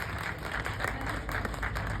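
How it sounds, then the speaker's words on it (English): A festival audience at a literature event claps for a panel of speakers, a soft, distant patter of applause that stays fairly even and faint across the short span. "Big hand, a round of applause for our three speakers."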